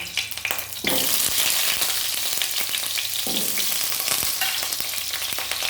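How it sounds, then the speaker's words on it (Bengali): Potatoes frying in hot mustard oil: a loud, steady sizzle bursts up as the potatoes drop in and holds throughout, with a few clinks and scrapes of stirring. "তেলটা গরম হয়ে গেছে, এর মধ্যে আমি প্রথমে আলুটা ভেজে নেব"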